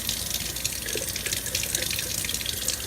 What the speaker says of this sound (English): Let's rinse jar number 1.